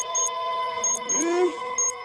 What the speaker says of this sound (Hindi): सुबह होने पर अलार्म बजता है।